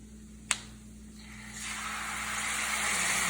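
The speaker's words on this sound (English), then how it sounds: "You hear that nice sizzle?" Walnuts coated in maple syrup sizzle in a hot pan with a soft, steady hiss that swells after a sharp clink and keeps building, close and without talk.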